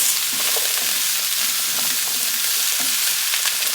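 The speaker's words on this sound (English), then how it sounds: "then saute this again for 5 to 6 minutes" Loud, dense sizzling of vegetables sautéing in a pan for vegetable lasagna, a steady hiss with faint stirring clicks beneath, close up and free of speech.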